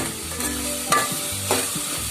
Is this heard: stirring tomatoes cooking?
yes